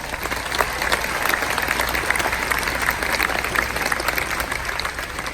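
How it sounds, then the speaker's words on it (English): Large outdoor audience applauding at a university commencement ceremony, a dense, steady wash of clapping lasting several seconds with no voices standing out. "please show your appreciation with another round of applause"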